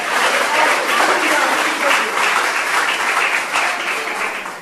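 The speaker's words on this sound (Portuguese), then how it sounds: "Se é para Jesus, pode aplaudir" A church congregation applauds loudly, with sustained dense clapping that swells and eases in waves for several seconds.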